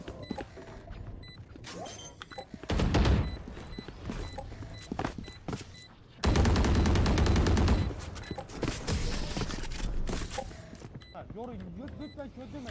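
Classic pistol shots in the Valorant video game pop in scattered bursts under heavy gameplay noise, with a louder sustained stretch of game effects and voices talking over much of it.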